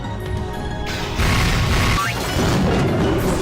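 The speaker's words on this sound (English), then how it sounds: "A chain of explosions flashed by one after another, enveloping Bernd Castell and her pack of familiars in an instant." Visual novel explosion effect in Umineko: a loud, dense roar of blasts, a sudden heavier burst about a second in, then another swell, all rumbling continuously with no voices.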